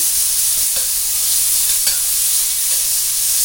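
Bacon sizzling steadily in a hot pan while being stirred with a utensil, a loud, close, continuous frying hiss with faint scraping touches throughout.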